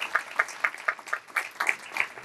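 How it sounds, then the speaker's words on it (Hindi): Audience applause at a Christmas program held at a mental health institute, heard as a run of regular, fairly quick claps at moderate loudness with no one speaking over them. "तालियां आपकी खत्म नहीं होनी चाहिए"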